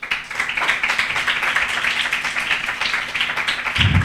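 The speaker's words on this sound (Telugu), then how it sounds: "చప్పట్లు కొట్టరా?" An audience at a Telugu church sermon claps together in a dense, steady wash of applause that runs unbroken for about four seconds.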